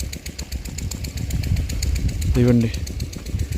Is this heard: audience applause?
no